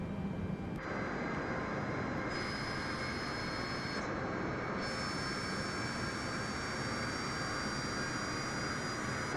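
Four-engine Boeing 747-8 jet engines spool up for takeoff in Microsoft Flight Simulator, with a steady, loud, continuous roar and a high whine. No one talks over it.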